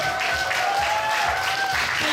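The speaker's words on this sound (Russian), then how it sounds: "Аплодисменты." Applause from an audience at a stage performance, a dense steady wash of clapping under a faint sustained musical tone, with a soft rhythmic low thump running beneath.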